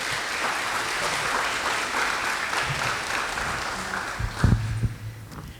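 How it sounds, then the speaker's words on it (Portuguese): An audience at a solemn council session honouring merit claps steadily in a dense, sustained round of applause that fills the hall, with a few louder claps near the end. "Palmas."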